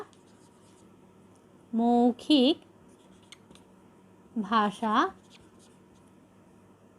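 A teacher writes a chart on a board in two short bursts of squeaky, scratchy strokes, separated by quiet room background.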